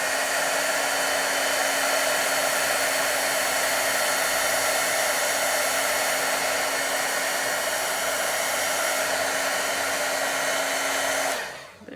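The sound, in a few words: heat gun blowing hot air on gel medium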